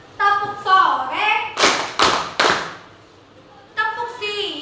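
Schoolchildren in a classroom chant a call-and-response clapping game, with several sharp bursts of claps between stretches of group chanting led by a teacher's voice.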